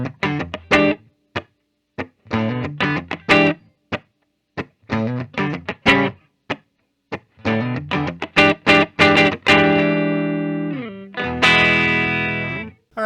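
A 2020 Epiphone Joe Bonamassa Les Paul electric guitar plugged in and played loud through effects and distortion: choppy chords and riffs with short pauses between phrases, ending in a sustained ringing strum.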